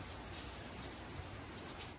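Steady rain pours outside a car, an even hiss of drops at moderate level without pauses.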